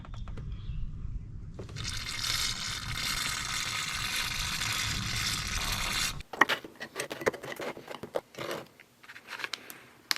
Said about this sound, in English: A little bit of brake cleaner.